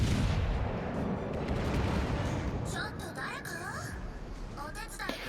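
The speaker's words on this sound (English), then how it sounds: "this is a Resolute shooting at us" Battleship guns fire in the naval game World of Warships: Legends as a Resolute shoots at the player's ship, a heavy rumbling barrage that fades and gives way to whooshing shell sounds, with someone talking over it.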